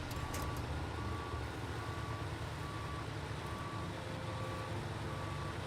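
A truck reverses in SnowRunner, its backup alarm beeping in an even, regular rhythm over a continuous low engine rumble, moderately loud and close.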